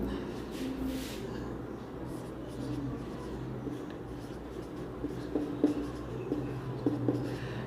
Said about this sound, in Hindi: तो हम यहां लिखते हैं